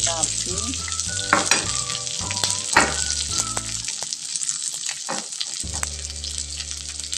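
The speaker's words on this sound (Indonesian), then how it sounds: "minyaknya sudah panas, masuk kacang sampai matang" Peanuts frying in hot oil for a sweet-spicy tempe dish, a dense continuous sizzle and crackle with metallic stirring clatter and scraping close by, no voices.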